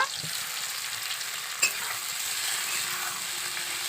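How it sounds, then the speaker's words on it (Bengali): Raw mango pieces are stirred in hot oil, giving a dense, steady sizzle close by with a single sharp clink of the spatula against the pan partway through. "এবার কাঁচা আম দিয়ে দেব আমগুলোকে তেলের সাথে ভালো করে নেড়ে নেব"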